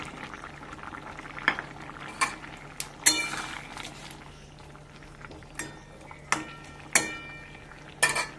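Fried eggplant going into a simmering pot of half-boiled taro and potato, with a low bubbling bed under scattered sharp clinks and knocks of a spoon on the pot, near and fairly loud, no talking.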